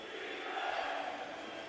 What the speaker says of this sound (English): this place getting loud now